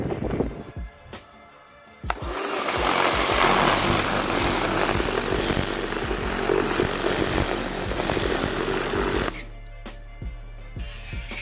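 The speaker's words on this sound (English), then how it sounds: "So we're going to pressure wash the cross member because it's gross" A pressure washer blasts grime off a budget race car's removed cross member, a loud steady roaring hiss that runs for about seven seconds with clanks and knocks before and after.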